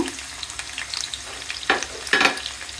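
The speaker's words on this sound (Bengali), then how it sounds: "চুলায় তেল গরম হয়ে গিয়েছে দিয়ে দিচ্ছি পেঁয়াজ কুচি বাগার দেওয়ার জন্য" Chopped onion sizzling in hot oil for tempering a bottle gourd leaf fry, a constant crackling hiss with two louder bursts of stirring or tossing near the end, no voices.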